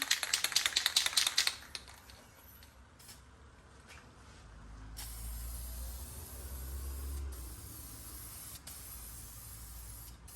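A heavier second coat of spray paint applied over carbon fiber: a rapid rattling burst of close aerosol spraying, then a softer steady hiss over a low rumbling background.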